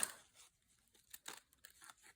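Scissors snip through thin, flimsy catalog paper in several soft, crisp cuts with a faint crinkle, quiet and close.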